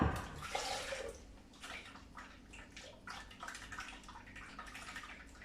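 Water pours into a glass from close by, a gurgling splashing stream that rises and falls in several soft pulses, fairly quiet and alone.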